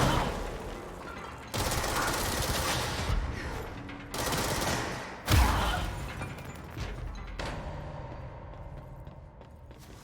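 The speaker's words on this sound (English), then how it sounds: "I still hear gunfire" Bursts of gunfire crackle in Control, coming in several loud, dense volleys with abrupt starts and a heavy impact halfway through, then fading into a noisy tail.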